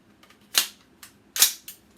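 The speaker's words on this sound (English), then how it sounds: "I'm going to drop the magazine," A rifle magazine dropped during dry fire practice, heard as two sharp, close metallic clacks with a couple of fainter clicks between them, and no talking.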